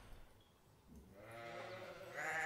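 A sheep bleats in an audiobook sound effect, the cry swelling from a quiet start into a loud, wavering bleat that grows stronger toward the end, with no talk over it.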